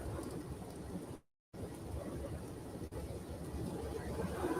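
Heavy rain pours steadily during a freezing rain storm in Indiana, a dense continuous hiss broken by a brief dropout, with faint low rumbles beneath.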